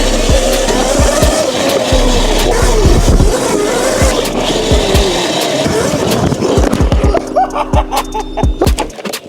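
A Razor SX500 electric dirt bike, fitted with a Little Bit controller and running at 82 volts, is ridden hard. Loud motor and tire noise surges in bursts, with knocks and thumps from the ride, and fades to choppy bumps at the end.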